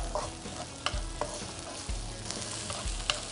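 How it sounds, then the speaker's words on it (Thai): Garlic and shallots stir-fried in oil for a stir-fry of marian plums with shrimp, a steady sizzle punctuated by several sharp spatula knocks against the pan, close up with no talking. "ผัดให้หอมแดงสุกนะครับ"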